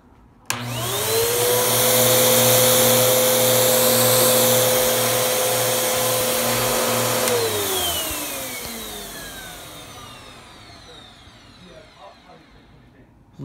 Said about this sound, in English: tell me if this vacuum sounds bad.